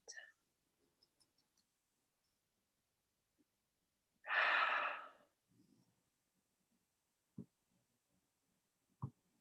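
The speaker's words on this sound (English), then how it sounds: "Deep breath in and out." A single slow, breathy exhalation mid-clip, loud and close, with faint mouth clicks and small breath noises before and after in an otherwise quiet room.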